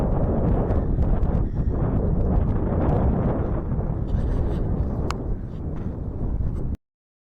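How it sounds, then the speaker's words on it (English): Strong coastal wind at Caister, Great Yarmouth, buffets the microphone in a constant loud roar that stops abruptly at the end. "It was very windy standing here, as you can hear."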